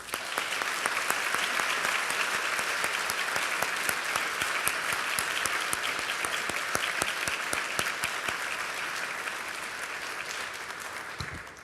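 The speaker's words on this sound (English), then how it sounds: "let's have a round of applause for all our panel members" Sustained applause from a large symposium audience after a panel, steady dense clapping throughout with no talking, tapering slightly near the end.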